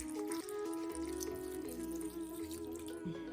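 Water pours and trickles into a container over soaking cashews in a kitchen, a steady liquid stream with a tonal ring, alone without talk.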